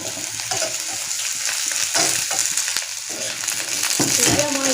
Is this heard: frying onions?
yes